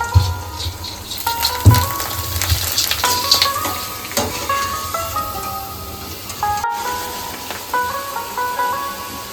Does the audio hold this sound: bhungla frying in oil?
yes